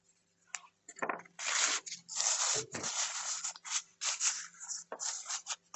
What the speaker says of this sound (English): my blender stick is just to help melt the lead, soften the lead up a little bit